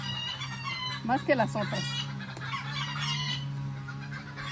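Backyard hens clucking and squawking in an agitated burst near the middle, with a rooster-like call, over a steady low hum; a person speaks briefly during it.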